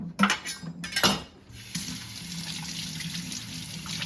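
Celery bunches are rinsed in water with a steady trickle and splash, after a few clinks and knocks of dishes at the start, moderately close and without talk.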